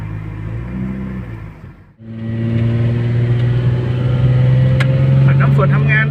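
A 1993 Volvo 940 with an automatic gearbox drives off and accelerates. Its engine hums loud and close, dips briefly, then rises into a steady strong pull as someone talks over it.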